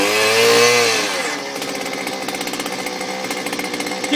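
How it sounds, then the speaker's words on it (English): A Stihl BT 121 gas-powered earth auger revs up loudly, its motor pitch rising and then falling, before settling into a steady, rough, pulsing drone as it bores into the ground, close and without talk. "So let's go ahead and drill the hole."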